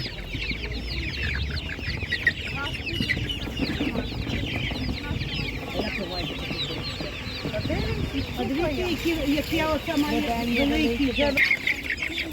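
Young chicks of the Spanish breed cluck and chirp steadily throughout at a market, a busy flock close by, with a person talking over them at times.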